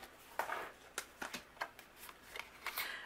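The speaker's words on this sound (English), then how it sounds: "I'll run both of these through my die cut machine." An A2 card base and die pass through a die cut machine, heard as faint, close, irregular crisp clicks and rustling bursts over a quiet room, with no talking.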